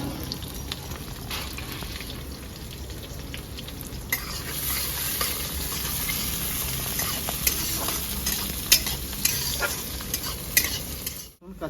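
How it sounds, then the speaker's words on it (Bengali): Chopped onions frying in oil and stirred in a pan, a continuous close sizzle with repeated scraping strokes of the spoon growing busier toward the end. "এবার আমি কেটে রাখা পেঁয়াজ দেবো। পেঁয়াজটা একটু ভেজে নেবো।"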